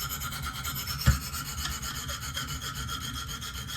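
A Benchmade Steep Country knife blade drawn across a coarse KME sharpener stone while grinding out a micro bevel, giving a continuous close, gritty rasping with one brief louder scrape partway through.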